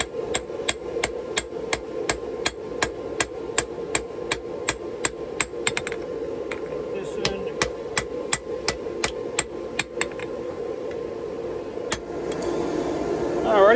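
A hammer forges steel axe cheeks from railroad scrap on an anvil, striking in a fast, steady rhythm of sharp ringing blows with a brief pause midway, over a constant low hum from nearby shop equipment.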